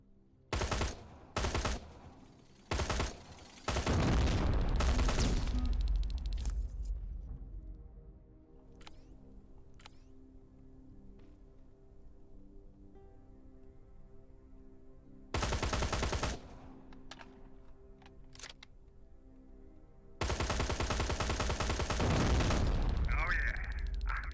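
Loud gunshots from a weapon in the game Terminator: Resistance fire in separate blasts and longer sustained bursts, close and heavy, with someone talking quietly in the pauses.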